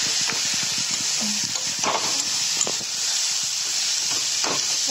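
Boiled potatoes are mashed in a pan with a little water for pav bhaji, giving a steady sizzle under rhythmic soft squishing and tapping strokes of the masher.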